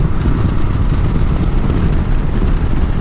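A Harley-Davidson motorcycle engine and exhaust rumble steadily while riding, a dense continuous low drone with wind noise, loud and close for the whole stretch.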